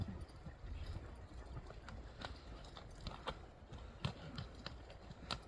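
Horse hooves clip-clop at a steady walking pace, moderately near, with irregular sharp hoof strikes over a low rumbling background; no one speaks.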